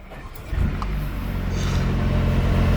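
A Mercedes A35 AMG hatchback engine starts up nearby with a quick crank and a sharp flare, then settles into a loud, steady idle rumble.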